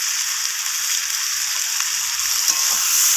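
Yardlong beans masala frying in oil in a pan, a dense, loud, steady sizzle like light rain that continues without pause, with only faint stirring.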